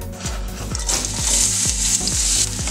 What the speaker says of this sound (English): Now the oil is ready, we're gonna add the sliced onion and the garlic.